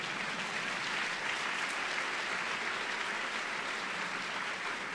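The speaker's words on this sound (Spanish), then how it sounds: "aplaudan nomás, no hay problema" A university audience at a doctoral ceremony at the National University of Córdoba claps in a steady, dense wash of applause, sustained and moderately distant, with no talk over it.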